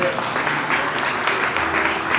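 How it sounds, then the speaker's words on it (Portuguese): A church congregation claps together in a steady, even wash of applause that fills the whole moment, with a few voices mixed in. "Você pode aplaudir a Deus por isso?"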